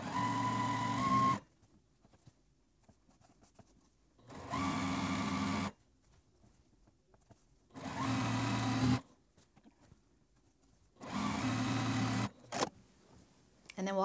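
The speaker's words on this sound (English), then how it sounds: "take all of these over to my sewing machine, and I'm just going to go ahead and sew them all at once" A sewing machine stitches fabric quilt block pieces in four separate bursts of fast, steady stitching, each lasting about a second, with quiet pauses between them.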